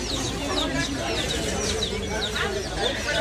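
Pigeons at a crowded outdoor pigeon market in Ati Bazar, Bangladesh, with many overlapping coos and bird calls continuing under nearby talk and market noise.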